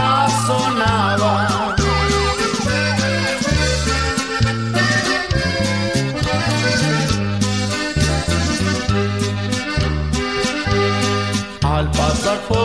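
A wailing police-style siren effect woven through a Mexican norteño-style song about a patrol and a gunfight, its sweeping tones riding over steady accordion, bass and vocals throughout.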